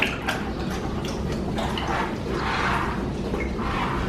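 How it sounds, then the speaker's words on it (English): Two dogs lap water from a shared bowl at the same time, giving soft, repeated wet slurping and dripping sounds over a light steady background hum. "when they drink out of the water bowl at the same time"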